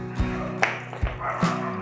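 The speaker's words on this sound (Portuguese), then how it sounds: "Que rosnando." Low rumbling growl from a pitbull or bull terrier during play, with short yips and vocal bursts recurring roughly every half second, close to the microphone.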